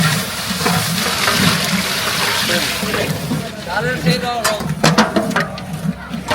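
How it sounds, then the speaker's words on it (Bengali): Mung dal poured into hot oil while cooking village wedding food gives a steady broadband sizzle, with bubbling and scattered clinks growing more irregular toward the end, and talking running underneath. "এই যে এখন আমরা ডালটা তেলে ছাড়বো।"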